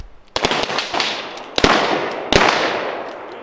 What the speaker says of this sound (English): So we shot some guns